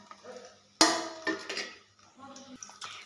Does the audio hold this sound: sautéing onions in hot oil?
yes